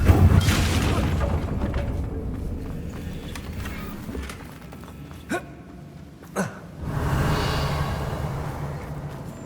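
Magical blasts and creaking impacts from a Hogwarts Legacy spell fight, with a Confringo fire spell exploding among a few sharp isolated bursts over a low rumbling background.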